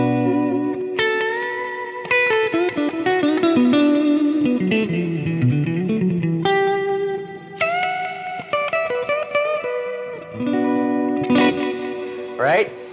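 Electric guitar runs through a Neunaber Immerse reverb pedal set for spacious echo repeats. Sustained notes and chords ring out, and each phrase trails into clear, fading repeats and a wash of reverb.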